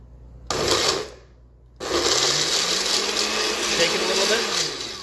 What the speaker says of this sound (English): And now, just try to puree this stuff.